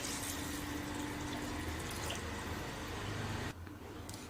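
Water pours steadily into uncooked rice in a pot for paneer biryani, a soft continuous splashing and trickling that is fairly quiet and close, dropping away slightly near the end.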